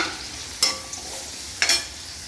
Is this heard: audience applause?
no